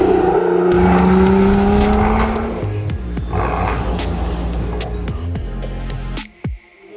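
A 2023 Lotus Emira supercharged V6 with a Milltek decat exhaust and Eventuri intake revs loudly and close, its pitch climbing for about two seconds before settling into a rumbling idle broken by sharp pops and crackles.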